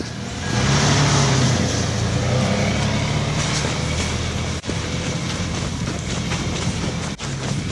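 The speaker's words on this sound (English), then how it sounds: "We're gonna see if the 4Runner can make it up." A Toyota 4Runner drives up a snowy hill, its engine and tire roar forming a loud, steady rumble that carries on without a break, with one or two brief dips.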